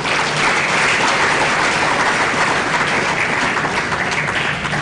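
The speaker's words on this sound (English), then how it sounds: "Can we please have a round of applause?" Press-conference audience marking the 75th Bradby Encounter gives a round of applause, a loud, dense, sustained roar of many hands clapping evenly throughout, with no voices heard.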